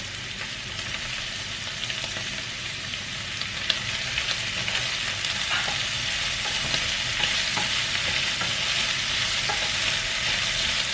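Peppers frying and being stirred in a pan while making karnıyarık, a steady close sizzle with occasional scraping stirs throughout.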